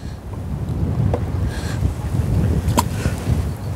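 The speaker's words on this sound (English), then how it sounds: "it's really quite windy and gusty" Steady low rumble of wind buffeting the microphone at an outdoor fishing spot, with gusts swelling and easing throughout; no voices.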